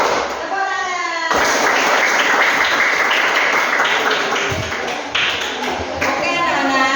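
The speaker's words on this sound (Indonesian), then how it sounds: "Tepukan." Students in a classroom break into a dense, sustained burst of rhythmic clapping on cue, loud and close, lasting several seconds with brief voices mixed in.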